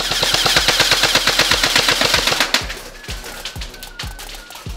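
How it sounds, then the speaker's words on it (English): Nuprol Delta Pioneer Defender airsoft AEG carbine firing on full auto: a loud, rapid continuous burst of close shots for about two and a half seconds, then several slower, quieter scattered shots. "let's get a few more shots on him in full auto."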